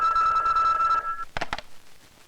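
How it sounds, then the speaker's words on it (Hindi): A telephone bell rings in an old Hindi film scene, a sustained electric trill that cuts off, followed by two short ring bursts, close and loud with no talk. "रिपोर्टर राकेश का फोन है"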